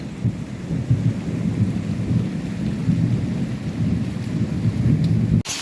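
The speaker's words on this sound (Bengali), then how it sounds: "দেখুন, বেশ ভালোই বৃষ্টি নেমেছে।" Steady heavy rain with a deep, continuous rumble of thunder underneath, loud and unbroken, ending in a sharp click.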